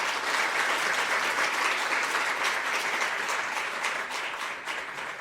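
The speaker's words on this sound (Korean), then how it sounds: "그러나 더 큰 뜨거운 박수로 환영하겠습니다" A church congregation at a Sunday worship service breaks into warm, sustained applause to welcome visitors, a dense wash of clapping from many hands that stays steady before easing slightly at the end.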